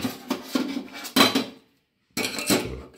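A pot of homemade insecticide lifted off a stove, with metallic clanks and rattles of cookware, a brief silent gap, then another burst of clattering.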